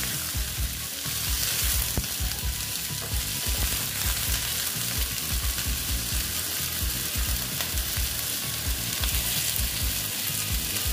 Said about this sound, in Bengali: দিয়ে এটাকে আমি আরেকটু ভেজে নেব